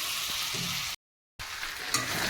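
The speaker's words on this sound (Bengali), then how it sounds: "এখানে হচ্ছে এই যে মাংস কষাচ্ছি আর এদিকে হচ্ছে এই যে আলু আর করলা ভাজলাম" Meat frying in a pan in a home kitchen gives a close, steady hissing sizzle, cut by a short gap of silence, then sizzling again with a small clatter.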